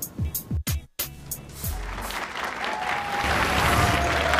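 A poker player's wife cheers him on at a televised MANSION Poker Dome game, and a crowd breaks into loud, sustained applause that swells steadily after a few short, clipped sounds at the start.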